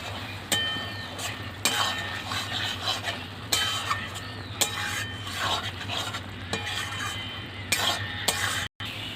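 Fried potatoes being stirred into a mash of Bombay duck (loté fish) in a pan, with a steady low sizzle and repeated scraping, clinking spoon strokes against the metal, close and fairly loud throughout.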